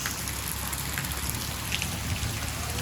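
Heavy rain pouring steadily over a village, a dense, even hiss of drops drumming on surfaces throughout, with no voices.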